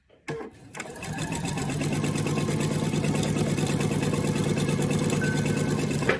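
A sewing machine sews a quarter-inch seam joining two pieces of fabric for a Christmas tree table runner, starting with a few clicks and then running in a steady, loud, fast rhythmic whir without pause.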